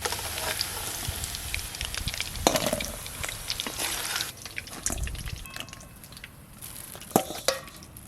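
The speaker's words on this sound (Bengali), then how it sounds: "এই চিকেনগুলো ভালো করে ভাজা হয়ে গেল।" Chicken pieces for chilli chicken fry in a pan, giving a continuous crackling sizzle with scattered sharp pops and spits throughout, close and fairly loud with no voices.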